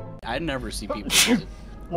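A man sneezes once, a sharp, loud burst in the middle of his own casual talk while playing Dead by Daylight.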